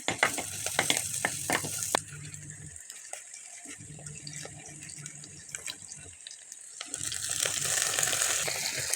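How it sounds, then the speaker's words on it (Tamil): Steady sizzling of onion sautéing in oil in a pan, with clattering and splashing water from a running tap or sink partway through. "ஒரு வெங்காயத்தை போட்டு அதுவும் நல்லா வதக்கிக்கிட்டு இருக்கேன்"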